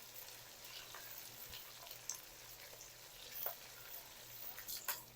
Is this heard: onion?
yes